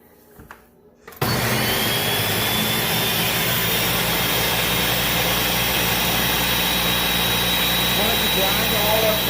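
A blender starts abruptly and runs at a loud, steady roar while grinding guajillo chilies into a red sauce for pozole, menudo and enchiladas. A brief stretch of quiet handling comes before the motor kicks in.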